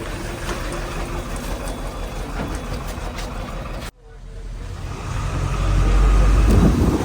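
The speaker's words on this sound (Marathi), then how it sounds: "पाच ला बस आली आपली ही" A bus on the Chamba to Khajjiar route pulls in with its engine running, a steady rumble that cuts out briefly, then returns and swells louder and closer as the diesel revs, with faint voices nearby.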